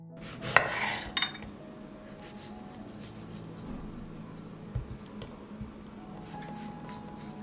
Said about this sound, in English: I'll just cut the smaller tomatoes in half.